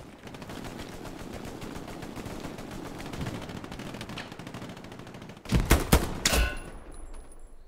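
Gunfire in the WWII shooter Hell Let Loose: a dense battlefield bed of distant rattling shots, then a close burst of loud rapid rifle or machine-gun fire near the end before fading.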